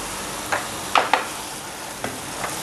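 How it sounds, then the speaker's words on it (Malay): Mixed vegetables for a Chinese New Year Lo Han Jai are stir-fried in a pan with a splash of water and dates, giving a few scattered utensil scrapes and clacks over a faint sizzle, with no talking. "Okey, kita goreng."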